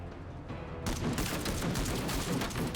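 Volleys of gunfire striking a squad in the sci-fi tactics game Menace, a sudden burst that starts loud and stays dense and continuous after the first second.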